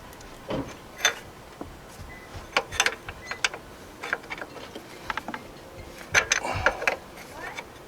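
Irregular metallic clicks and short ratcheting taps come from a wrench tightening the power steering hose fitting on a 1997 Jeep Wrangler TJ 2.5, scattered bursts close to the engine bay.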